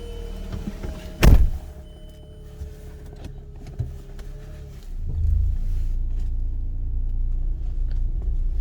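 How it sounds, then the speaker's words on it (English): A push-button start vehicle starting: a sharp electronic click and chime, quiet cabin hum, then a low engine crank catching around the midpoint and settling into a steady rumbling idle. "And now I'm able to start the vehicle."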